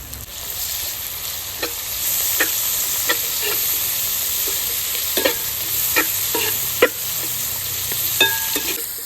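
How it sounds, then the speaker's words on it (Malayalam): Chopped carrot and capsicum frying and being stirred into a homestyle chicken curry in a traditional uruli pot, with a steady sizzling hiss broken by scattered scraping stir strokes, close and moderately loud, with no talking. "നമുക്ക് അരിഞ്ഞു വെച്ച ക്യാരറ്റും ക്യാപ്സിക്കും ഇട്ട് കൊടുക്കാം."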